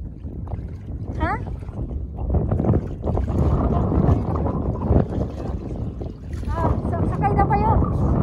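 A boat rocks on the water at a wake-surfing outing, with steady wind and water rumble under lively talk and laughter from the passengers.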